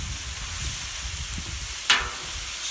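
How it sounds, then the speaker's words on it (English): Pork sears and sizzles on a Camp Chef flat top grill, giving a steady close hiss with a brief sharp scrape or pop near the end and no voices. "they are really starting to get that nice brown sear on everything"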